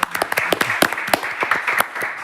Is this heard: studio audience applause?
yes